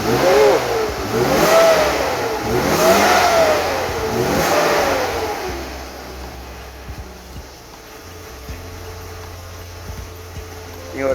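A car engine revs up and down in several rising and falling surges after DCS cleaning spray through the intake and throttle body, then settles to a steadier idle hum.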